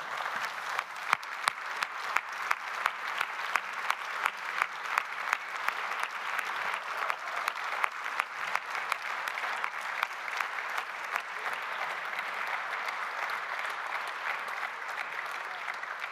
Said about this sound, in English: Maybe this is an applause.